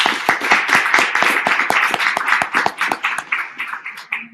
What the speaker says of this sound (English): Virtual applause for you, and also from here you can.